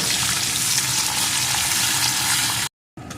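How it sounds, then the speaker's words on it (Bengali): Chopped onion frying in a pan for a soybean dish, a loud dense close sizzle that runs steadily then briefly cuts out before resuming. "এখন পেঁয়াজ কুচিটা একটু ভেজে নেব"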